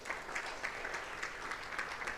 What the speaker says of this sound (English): Shall we give our Honorable Minister a round of applause?